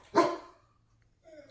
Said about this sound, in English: I got 2 labs. If you hear them barking.